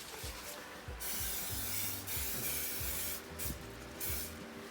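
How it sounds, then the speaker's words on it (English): A few short bursts of aerosol oil spray hiss close by onto meatballs, repeated with brief pauses, over faint clinks and handling noises. "Maybe spray them with a little oil so they brown nicely."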